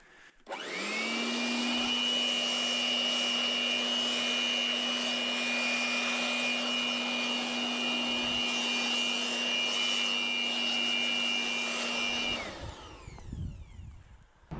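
An RZTK BL 600E electric leaf blower spins up and holds a loud, steady whine for about twelve seconds while it blows sand that has lain packed all winter, then winds down. There is no talking.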